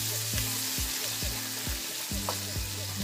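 Ground masala paste sizzles in hot oil for a dubuk vadi curry, a steady close frying hiss with periodic low tones, and no talking.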